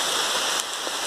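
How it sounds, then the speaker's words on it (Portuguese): Steady rain arriving during a fishing trip outdoors, a dense, even hiss of drops on surfaces filling the whole second without a break and no voices. "vai ter que encerrar o vídeo porque chegou a chuva"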